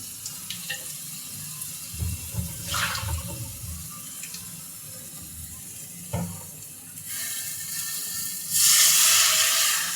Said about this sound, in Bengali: দিয়ে দেব একটু ঝোলের জন্য পানি।